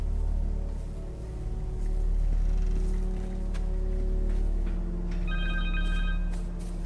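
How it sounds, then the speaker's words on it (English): A cell phone rings in the Spider-Man 2 video game, a repeating electronic tone rising over a low rumbling game ambience near the end, with no speech. "Connors' cell phone."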